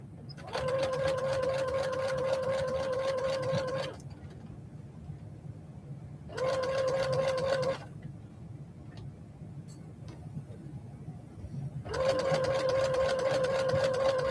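A Brother SE7205 sewing machine tacks down a seam in three separate runs of fast, even stitching hum, each lasting a few seconds, with quieter pauses between them.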